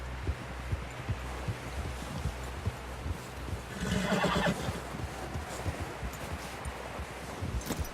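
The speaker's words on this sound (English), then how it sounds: "Someone help John down off this horse" A horse whinnies once, loud and close, amid steady clip-clopping hooves and a constant low rumble, in the video game Red Dead Redemption 2.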